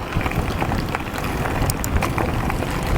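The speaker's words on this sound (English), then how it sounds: "this wind is awful" Strong Oklahoma wind buffets the microphone outdoors on an e-bike ride along a gravel track, a loud continuous rumbling roar with no pauses.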